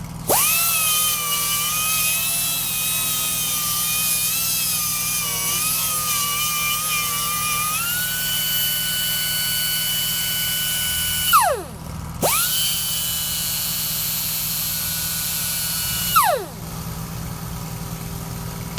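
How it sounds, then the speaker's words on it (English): Air compressor running steadily in a welding shop, a loud sustained whine with a droning tone that twice cuts out and dips before restarting, close and continuous. "So there's the compressor running."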